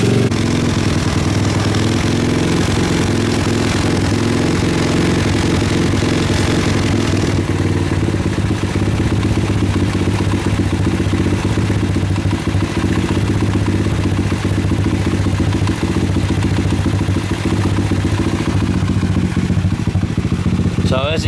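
A DemonX 110 pit bike engine idles nearby with a steady, loud, clattering tickover, its rhythm shifting slightly after a few seconds, while someone talks over it.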